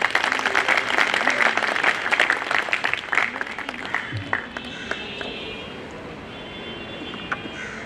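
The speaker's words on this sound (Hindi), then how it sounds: "तालियों से उनका स्वागत करें।" Audience applause welcoming a speaker at a Bar Council of Delhi enrolment meeting, dense clapping from a sizable crowd that is loud at first, then gradually thins and fades out.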